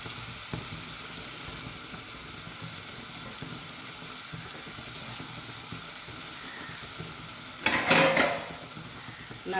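Grated coconut stirred into softened tomato in a pan, a soft steady sizzle with faint scraping, then a louder burst of stirring and clattering near the end.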